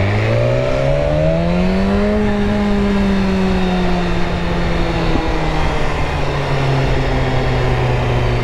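Loud motorcycle engine revving near 4,500 RPM where the exhaust pops, a continuous droning tone that climbs in pitch, then slowly sags and holds.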